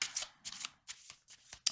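A deck of tarot cards is shuffled and cut in short, crisp riffling bursts, four or five quick flutters close up, quiet and without talk.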